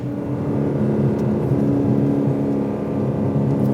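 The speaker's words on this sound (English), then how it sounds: "even before you start to push this V8 to hear it bark, to hear it roar" Aston Martin DB11 V8 engine humming steadily while driving, a low even drone heard from inside the car with no talk.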